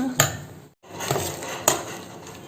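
A spoon scrapes and clinks against a bowl while idli batter is mixed with fried onions, with a couple of sharp close knocks and a brief pause between strokes.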